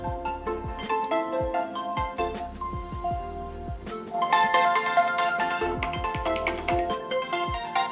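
A bright electronic ringtone melody on a ColorOS 11 phone plays alone, with plucked repeating notes and a fuller layer of chimes joining halfway through.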